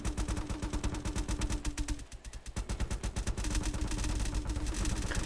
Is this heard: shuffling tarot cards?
no